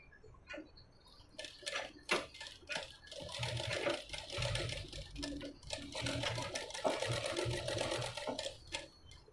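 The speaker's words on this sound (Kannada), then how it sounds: "ಅದರಿಂದ ನೀವು ಒಂದು ಕಾಲು ಇಂಚು ಬಿಟ್ಬಿಟ್ಟು ಸ್ಟಿಚ್ ಮಾಡಿ." Sewing machine stitching piping around a blouse neck, a quiet rattling whir in short runs with brief stops, heard close up.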